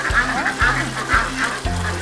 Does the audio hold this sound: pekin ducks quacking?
yes